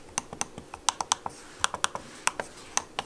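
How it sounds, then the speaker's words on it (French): Buttons on a Wacom Intuos drawing tablet clicked repeatedly, a crisp mouse-like click heard as a dozen or so sharp, close taps at an irregular but quick pace, with no talking. "c'est un clic qu'on a l'impression de cliquer comme sur des boutons d'une souris"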